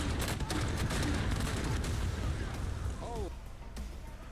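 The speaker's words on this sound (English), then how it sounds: "you can't really hear it right now because this explosion is really freaking loud." A loud explosion sound effect in a video being edited plays as a dense, rumbling blast with crackling bursts that gradually tails off, with a brief voice near the end.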